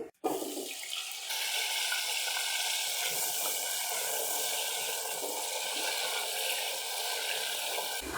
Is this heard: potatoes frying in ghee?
yes